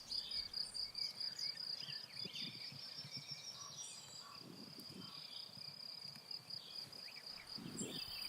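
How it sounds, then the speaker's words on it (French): Crickets, grasshoppers and other insects chirp in a spring meadow, a steady high trill running throughout with scattered faint bird calls and soft low rustling beneath, all at a quiet, even level. "La prairie bruisse de toutes parts. Des centaines de grillons, des criquets, des sauterelles"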